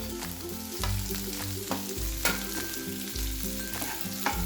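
Capsicum and carrot hit a pan of sautéed onion for masala oats, setting off a steady sizzle with repeated sharp scraping strokes of a spatula and low clanking rhythm throughout.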